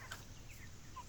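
Cornish cross chickens in a chicken tractor give soft, steady clucking and fowl chatter, faint and continuous over a low background hum, with no voices.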